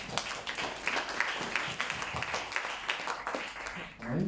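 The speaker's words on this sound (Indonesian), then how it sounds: "mohon tepuk tangan." Applause from a school audience during an insurance awareness presentation at a high school, a dense patter of hand claps at moderate loudness that holds steady throughout with some voices mixed in.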